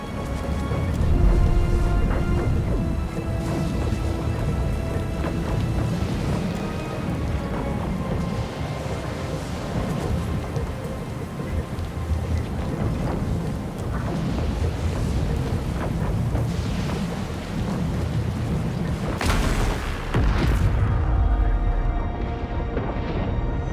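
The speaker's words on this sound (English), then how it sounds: "The machine controlling the storm winds down." A storm-controlling machine winding down in Pillars of Eternity II: Deadfire, heard as a dense continuous roar of rain and rumbling thunder with clattering mechanical rattles, swelling into a louder crash near the end before thinning out.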